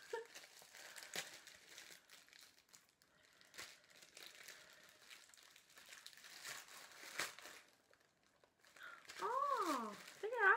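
A Wish parcel torn and crinkled open, plastic packaging rustling and crackling in scattered bursts close by, louder crinkling near the end as a voice speaks over it.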